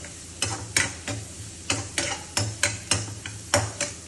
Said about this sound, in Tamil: கேரட் போட்டிருக்கேன், சோளம் போட்டிருக்கேன், ஸ்ப்ரிங் ஆனியன் போட்டிருக்கேன், இஞ்சி அப்புறம் பூண்டு இவ்வளோ வதங்கிட்டு இருக்கேன்